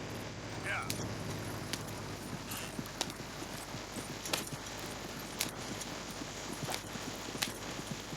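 Horse-drawn cart in a video game, with scattered clip-clop hoofbeats and jangling over a steady, busy game backdrop.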